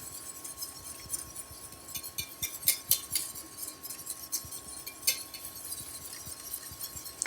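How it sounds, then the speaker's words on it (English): A whisk clinks and scrapes against a pot while cream and cheese sauce for fettuccine Alfredo is stirred, making irregular light metallic ticks over a steady hum, with no voices. "So we're gonna take our whisk and we're gonna whisk this together."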